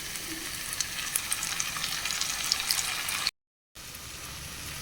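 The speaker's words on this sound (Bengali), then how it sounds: "মশলাটা ভালো করে কষিয়ে নেব, এইভাবে নাড়াচাড়া করে।" Masala paste sizzles and fries steadily in a pan over onions while being stirred, a continuous hiss with light scraping clicks, briefly dropping out to silence before resuming.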